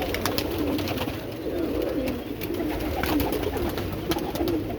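Marwari pigeons coo softly in a loft, a continuous layered murmur of low throaty calls from several birds, fairly close but not loud, with no talk over them.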